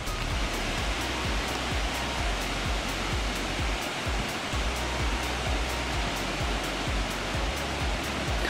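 Mountain stream near the Puy de Sancy, water rushing and splashing steadily in a constant broadband wash close by, with no voices.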